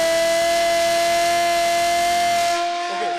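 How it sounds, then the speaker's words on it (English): A civil defense alert siren during a drill gives a steady, sustained wail at a constant pitch with a hissy edge, then cuts off abruptly near the end, leaving quiet. "And that's the siren, that's the alert by the civil defense."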